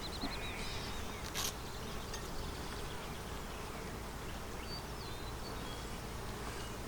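Honeybees buzz steadily around an opened hive outdoors in spring, a dense, even insect drone at moderate level throughout with a few brief higher chirps above it and no talk.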